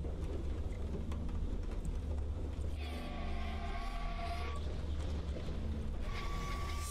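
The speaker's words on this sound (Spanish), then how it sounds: "ahí vemos que está lloviendo" Steady rain in the video game Silent Hill Origins hisses in the background with a low rumble underneath, while brief tonal sound effects rise and fade over the downpour.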